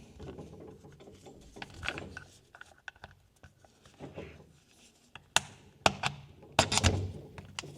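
Metal parts of a KRISS Vector .45 ACP clack and knock together as the gun is assembled and its takedown pins are pushed in, ending with several crisp mechanical clicks, close and fairly quiet.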